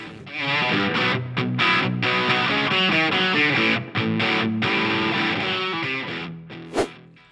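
A heavily distorted electric guitar, a 1980s Kramer DMZ 2000 with humbucker pickups, plays a run of crunchy chords and notes, loud and up front, ending with a sharp accent.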